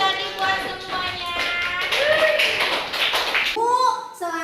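Students in a classroom clap together for a short burst, with the rapid hand claps close and loud and a few children's voices mixed in near the end.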